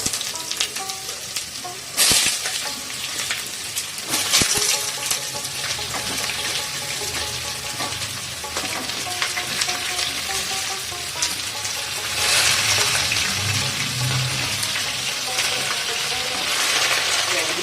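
Mango pieces and panch phoron spices hit hot oil for a sweet mango pickle, giving a steady close sizzle and crackle with a few sharp clinks of a utensil, intensifying toward the end.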